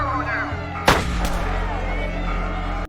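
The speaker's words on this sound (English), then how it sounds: "When the fight doesn't stop, the guards fire warning shots." Prison guards fire warning shots during an inmate fight: one loud, sharp blast with a rumbling tail stands out over a steady low background.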